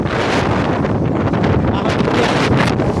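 Heavy wind buffeting an outdoor microphone near coconut palms, producing a loud, constant rumbling roar that fills the whole stretch with no pauses.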